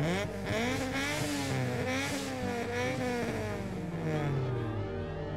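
Gina's car from the racing game Midnight Club 2, its engine revving and shifting with rising and falling pitch sweeps, loud and continuous throughout.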